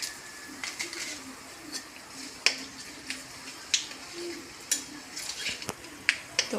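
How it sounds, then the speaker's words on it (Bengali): Black cumin seeds fry in a pan as a utensil stirs them, producing scattered sharp clicks and scrapes against the metal over a faint sizzle, close and irregular, with no talk. "এখন খুব ভালো করে নেড়ে নেব।"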